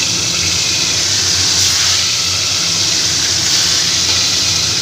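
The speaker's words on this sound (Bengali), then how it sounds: "ঢাকা দিয়ে আস্তে আস্তে করে মাছগুলোকে ভেজে নিই" Magur catfish frying in mustard oil under a lid give a loud, steady sizzling hiss that holds at an even level throughout, with no voices heard.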